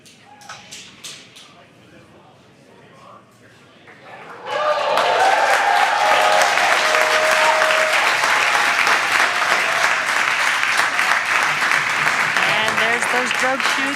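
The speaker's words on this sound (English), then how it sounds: "you can hear the crowd here very excited to see them deploy." A crowd erupts into loud, sustained applause and cheering as drogue chutes deploy on the returning SpaceX Crew 4 capsule. Sparse voices come first, then the dense clapping takes over and holds to the end.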